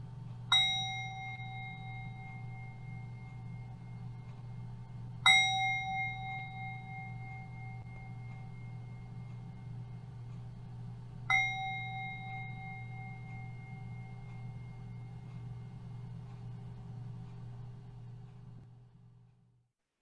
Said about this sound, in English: Let's begin this beautiful, beautiful day by ringing our bells in celebration.